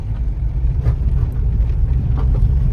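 A car pulling into a parking spot at a pilgrim lodge in Ganpatipule, Ratnagiri: a steady, close engine rumble with low road noise, no voices.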